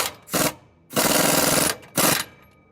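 Three bursts from a pneumatic impact gun run bolts down snug while a trac bar is installed: two short rattling blasts and a longer one between them, close and loud against quiet gaps.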